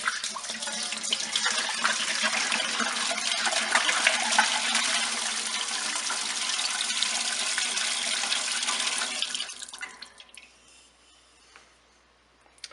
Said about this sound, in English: the next step is to pour in to the pot all of the distillate you got from the 2 stripping runs